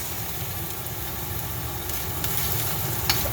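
Ginger and garlic fry in a pan with a soft, steady sizzle that swells slightly toward the end, joined by a faint tap or scrape near the finish.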